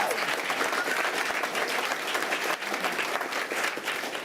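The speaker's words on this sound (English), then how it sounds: "Let's give it up for one more big round of applause for them." Steady, fairly quiet crowd clapping fills a school board meeting room, an even wash of many hands with a slight dip midway.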